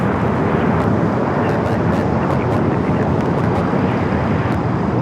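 Boeing 747-400 freighter aircraft arriving at LAX airport, a loud, broad, steady jet roar filling the whole stretch with wind buffeting on the microphone.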